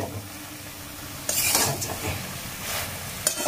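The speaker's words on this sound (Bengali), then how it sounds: "তেল ছাড়া রান্না একটু টাইম লাগে। এই যা এটাকে কষিয়ে কষিয়ে করতে হয়" Vegetables being stir-fried in a pan with no oil, giving a steady dry scraping and soft sizzle with louder bursts of stirring from about the middle onward, close up and with no voices.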